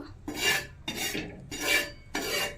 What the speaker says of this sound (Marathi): असं पीठ भाजून घ्यायचं लालसर होईपर्यंत